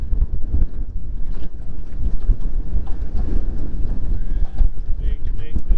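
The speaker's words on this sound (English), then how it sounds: "Wind. Gale force winds." Gale force wind blows across a lake, loud buffeting rumble battering the microphone continuously with brief water splashes and a voice underneath.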